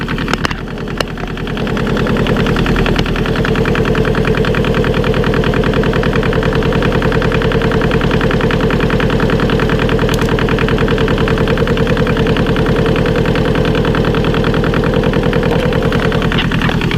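Lister Petter diesel engine cranks over and catches, then settles into a steady, loud, close-up running chug with a constant mechanical rattle throughout, no speech.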